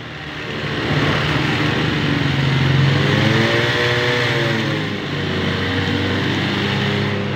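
An engine revved and held steady around 2,000 RPM at a tricycle shop, a continuous close droning hum that swells slightly and settles, with no talk.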